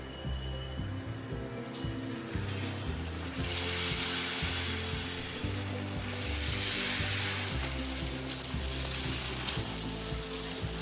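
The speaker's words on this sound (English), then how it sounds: "So now we are going to fry the puris." Puris, the small crisp shells for street-style pani puri, fry in smoking-hot oil with a steady, dense sizzle and bubbling that swells louder partway through and keeps going without a break.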